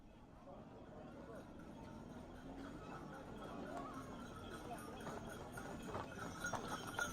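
A small donkey carrying riders, its hooves clip-clopping in a steady rhythm under people talking, the steps growing slightly louder toward the end.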